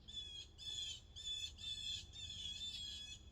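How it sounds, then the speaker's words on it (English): Loud, repeated bird squawks come in rapid bursts across the whole stretch, close and shrill, over a low background rumble outside a garage. "And those birds are loud."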